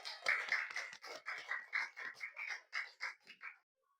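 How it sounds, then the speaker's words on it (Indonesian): Students in a classroom clap in rhythmic unison for student groups, about a dozen quick, even bursts over three and a half seconds before it stops abruptly. "tepuk tangan untuk kelompok 3 dan 5"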